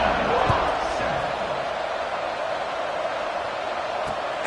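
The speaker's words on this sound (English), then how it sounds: "this crowd is buzzing after that last score" Stadium crowd in the College Football 26 video game, a steady broad roar and buzz of many fans after a score, loud and continuous with a couple of faint thumps.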